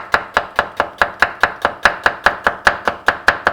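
A knife chops through onion on a board in a fast, even rhythm of about seventeen crisp, close strokes, alone with no talking.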